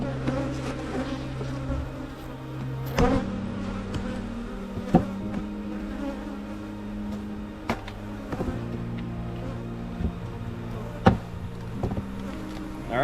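A strong honeybee colony buzzes steadily from an open hive stacked with three honey supers in mid-May, a dense continuous drone with occasional sharp knocks and clicks of hive equipment.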